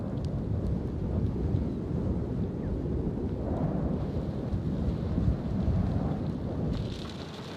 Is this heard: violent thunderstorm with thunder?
yes